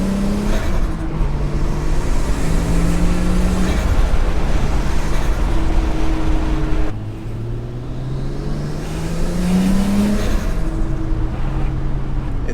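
A Nissan R34 with a test pipe and the catalytic converter removed revs loudly while driving, its engine note rising and falling through gear changes with a brief drop midway, alone with no talk.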